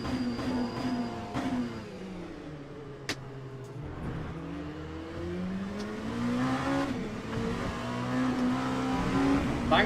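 Engine whine of racing cars in the video game RC Pro rising and falling in pitch as they accelerate and corner around a track, a continuous close drone.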